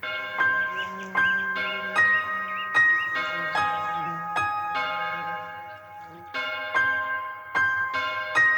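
Bells ring through the intro of a song, with bright metallic strikes landing about once a second over sustained keyboard tones.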